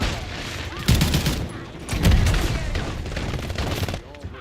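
Gunfire from a Modern Warfare 3 match bursts out in rapid volleys with heavy booming hits, loud and close, sometimes overlapping, amid chaotic game noise.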